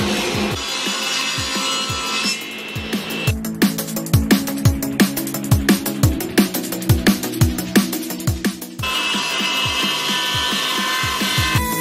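A Laguna Fusion 2 table saw cuts a 1¾-inch board of wormy maple while a vacuum system runs, giving a steady loud whine with a rhythmic series of sharp pulses during the cut and no talk.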